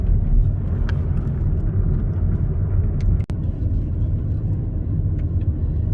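Interior rumble of a car riding along a bumpy countryside road outside Tromsø in northern Norway, with a steady, heavy low-end drone, small knocks from the uneven surface, and one sharp jolt midway.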